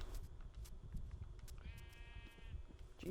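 Blocky sheep in a hardcore Minecraft survival world bleat in short, fairly quiet calls over a low, busy game background, with a brief higher tonal note in the middle.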